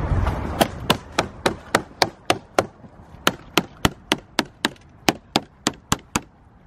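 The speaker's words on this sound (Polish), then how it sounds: "Młotkiem idzie." Steady hammering during a trailer repair: about twenty sharp, close blows in an even rhythm, each a crisp knock that rings briefly before the next strike.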